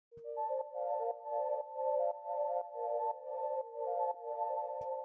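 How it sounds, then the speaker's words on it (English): A soft analog synth arpeggio cycles through a repeating pattern of clean, bell-like notes in an even pulse, washed with reverb and echo, quiet and alone with no voices. "So the first sound that I have here is this little ARP thing that I made with analog."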